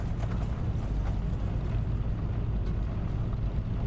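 Piper Dakota piston engine in Microsoft Flight Simulator 2024, taxiing at just over 1000 RPM: a steady low rumbling drone, close and continuous with no talk.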